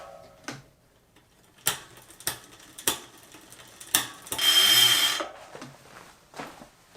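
Close mechanical clicks and ticks from a bicycle's electronic derailleur, with a short buzzing motor whir as it strains to shift, then more scattered clicks.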